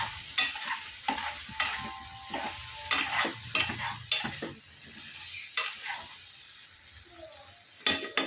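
Vegetables for Maggi noodles are stirred in a pan, the spoon scraping and tapping in quick irregular strokes over a soft background sizzle, close by and fairly quiet.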